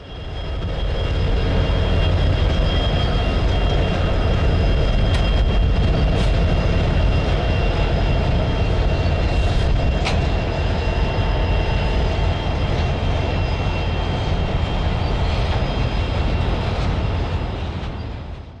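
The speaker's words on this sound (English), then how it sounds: "a northbound CN train rolled by with an EMD" A northbound CN freight train led by an EMD SD60F cowl-body locomotive, built July 1989, rolls past with a loud, steady rumble and rail noise that holds for the whole stretch with no voices.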